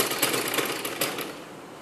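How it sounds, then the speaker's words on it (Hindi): Sewing machine stitching kameez fabric while a sleeve is attached, a brief close rapid mechanical rattle that slows and fades toward the end. "यहाँ पर भी हम डबल सिलाई लगाएंगे फॉर मोर प्रोटेक्शन"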